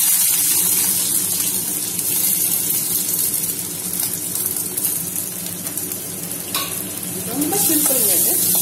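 Sliced onions and fennel seeds fry in hot oil while being stirred, giving a loud, steady, close sizzle with scraping and stirring noises that swell again near the end.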